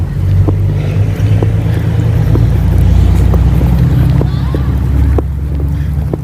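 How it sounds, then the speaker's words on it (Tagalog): Strong sandstorm wind buffets the microphone with a heavy, continuous low rumble and roar that stays loud throughout, while a person speaks intermittently over it. "Ang lakas, mahangin pa."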